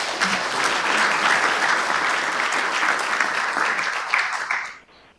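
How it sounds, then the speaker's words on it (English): An audience at a county board of supervisors meeting applauds for Glide, an autonomous logistics company. The steady, full-room clapping holds for about five seconds, then drops off abruptly into near silence. "Can we get a round of applause for Glide?"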